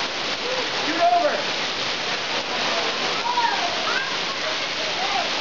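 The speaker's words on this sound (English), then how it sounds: "So we're hearing it starts to hail like crazy." Heavy hail pelting and bouncing off the roof of a cart at the North Rim of the Grand Canyon, mixed with rain, a dense continuous rattling roar that stays loud throughout, with a few brief voices over it.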